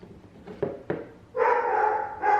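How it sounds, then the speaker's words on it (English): A pet dog barks a few sharp, close times, then breaks into a sustained, louder whining yelp that pauses briefly and resumes, heard alone in a quiet room with no talking. "my dog's barking because this dropped and he thinks he's a guard dog"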